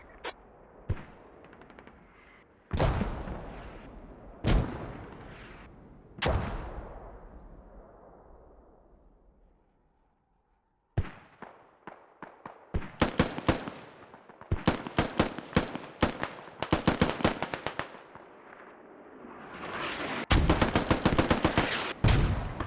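Repeated bursts of automatic rifle fire in a tactical shooter match, rattling in dense volleys with sharp single cracks between them, one long reverberant tail and a short lull before another heavy run of shots.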